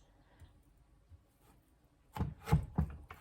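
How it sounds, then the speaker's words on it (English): Quiet faint taps at first, then three or four firm, thudding knife chops through frozen raw fish against a board in quick succession, close by. "I'm like chopping it."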